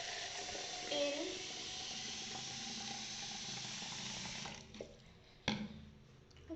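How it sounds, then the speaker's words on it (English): Cold tap water runs into a cup in a continuous hissing stream, stopping after several seconds with a soft knock, used to cool a hot fused bead design. "You have to fill some cold water"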